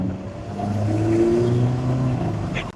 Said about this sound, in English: There's quite a bit of turbo whine behind me.